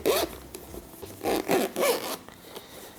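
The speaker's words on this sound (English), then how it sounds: "Let's zip it off." A zipper on a headphone carrying case with a copper-finish chain is pulled open in several quick close strokes, each a short rasping zip, alone without talk.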